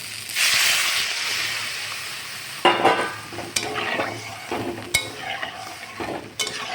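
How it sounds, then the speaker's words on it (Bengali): Spiced potatoes frying in a pan give a soft sizzle until water is poured in, setting off a louder burst of hissing and bubbling, followed by the scrape and clink of stirring, close up with no talking. "এবার এর মধ্যে আমি পরিমাণ মতো জল দিয়ে দেবো।"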